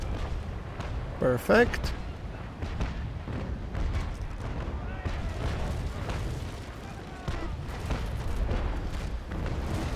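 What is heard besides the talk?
6-pounder long cannons firing in the video game Naval Action Legends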